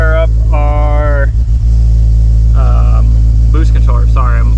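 A turbocharged Subaru Legacy idles right after its first start, a steady, loud low rumble running throughout while someone talks over it in short bursts.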